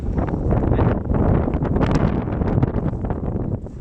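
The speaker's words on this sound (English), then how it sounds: "God, the wind." Loud, continuous wind buffeting an outdoor microphone at a festival, a steady roaring rumble with gusty swells throughout and no talking.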